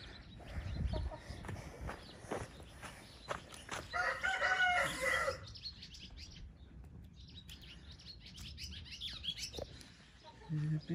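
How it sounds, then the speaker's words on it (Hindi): A rooster crows on a village farm, a bright harmonic call lasting about a second and a half mid-clip, amid other chicken clucks and chirps, with scattered background noise and low rumble throughout. "अब हम आपको दिखाएंगे हमारी असली मुर्गी"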